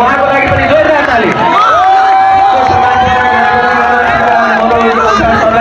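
Audience applause at a college's 18th annual function in Dhangadhi, a dense, loud wash of clapping and crowd noise that continues without a break, mixed with cheering and voices.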